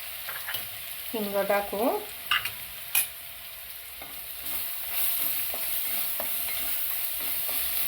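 Crushed green chilli paste sizzles in a hot pan while a spoon stirs and scrapes it in repeated strokes. A voice briefly speaks over the steady frying.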